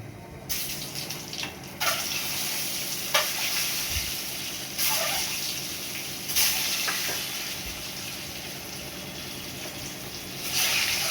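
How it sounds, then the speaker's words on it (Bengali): An egg frying in hot oil in a wok, giving a continuous close sizzle and hiss with a few brief clatters of utensils. "এবার ডিমটা ভেজে নেব।"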